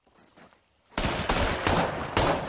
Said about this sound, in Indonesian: bocah tersebut dengan berani menembak Robert dari belakang